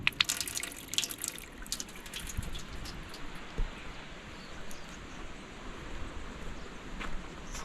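Water running from a tap at a campsite wash basin beside flushing toilets in a campground, a steady moderate hiss with faint splashing and occasional louder spurts, heard alone.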